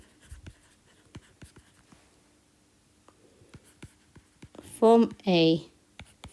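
A pen writes out a maths statement about tangents to a circle, making scattered faint scratches and taps in a quiet room before a person speaks briefly near the end.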